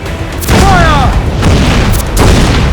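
Ship cannons firing in a naval battle in the pirate game Assassin's Creed IV Black Flag, loud deep booms rolling into one another, with a brief whistling streak and a dense rumbling roar throughout.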